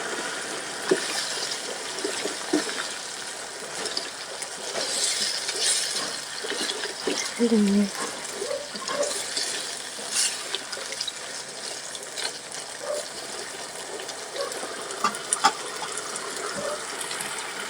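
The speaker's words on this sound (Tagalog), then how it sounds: "maglalagay tayo ng isang basong tubig lang" Water being poured into a pot of chicken adobo with potatoes and soy sauce, a continuous splashing, trickling stream with small bubbling and gurgling bursts, close and alone without talk.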